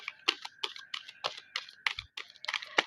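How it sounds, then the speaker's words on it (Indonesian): Tarot cards are shuffled by hand in a quiet room, making a quick series of crisp, close riffling taps and flicks. "Kita shuffle kartunya dulu."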